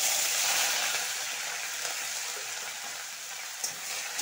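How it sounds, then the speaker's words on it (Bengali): Chopped onion frying in a pan with five-spice seeds and bay leaf while being browned for a jackfruit, potato and ghee curry, giving a steady, moderate sizzling hiss with no talking. "লাল লাল করে ভেজে নেব।"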